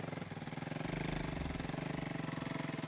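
A motorcycle engine idles steadily nearby, a low rhythmic chugging that swells slightly partway through and holds even.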